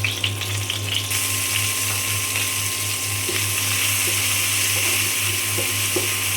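Onion dropped into hot oil in a pan, left from frying fish, sets off a loud, dense, continuous sizzle that swells after the first second and stays steady, with faint stirring scrapes.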